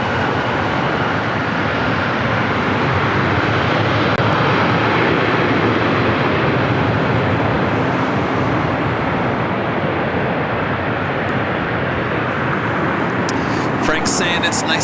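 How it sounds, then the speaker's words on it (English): An Emirates airliner arriving at LAX, flying straight in from the east: a loud, steady broadband jet roar that holds constant for the whole stretch, close and dominant, with no speech heard. "Today, Emirates is flying straight in from the east."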